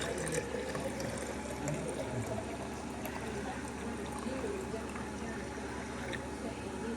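Liquid collected from luffa plants is poured from a bowl with a continuous, close splashing trickle that lasts several seconds, while a person talks faintly in the background.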